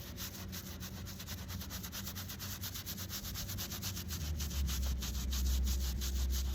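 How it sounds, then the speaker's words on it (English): Steady rhythmic scrubbing of hardened dirt on a veteran's cemetery headstone, with repeated brush strokes close by and a low rumble swelling underneath toward the end. "Requires more scrubbing."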